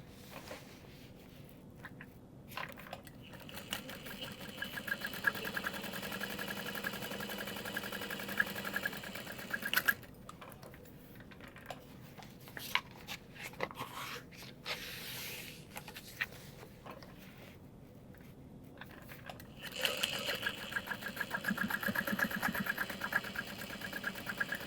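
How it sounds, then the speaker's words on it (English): A sewing machine topstitches through the lining of a handbag in several separate runs, a quiet mechanical hum broken by short pauses and faint handling noise, with no talking. "we're going to flip that down and top stitch through the lining"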